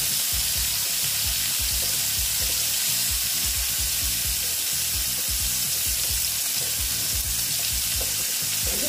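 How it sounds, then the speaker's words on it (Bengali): Pieces of kakrol (teasel gourd) fry in a pan, producing a loud, constant close sizzle with repeated low knocks and scrapes from stirring. "এগুলো আমি ভেজে নিচ্ছি।"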